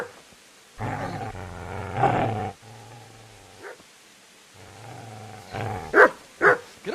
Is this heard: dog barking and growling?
yes